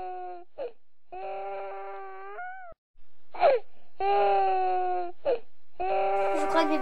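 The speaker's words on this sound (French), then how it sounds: "J'entends un bébé pleurer, on va aller voir ça." A newly woken baby cries in a series of wailing, whimpering bursts with short pauses between them, close and fairly loud in a quiet room.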